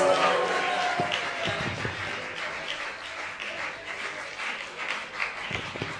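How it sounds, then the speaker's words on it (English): A festival crowd at Beer52 Cyberfest applauding for Liam, with sustained applause and cheering that is loud at first and tapers slightly, with scattered shouts in the mix. "Give him a humongous round of applause"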